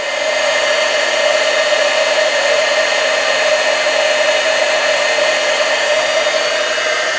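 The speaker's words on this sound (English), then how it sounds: "You don't want to wave your heat tool. You just want to hold it there till it starts melting and then move it right along." Steady, loud whir of a heat tool held in one spot over embossing powder on a handmade card, a constant fan-like drone that runs unbroken with no talking.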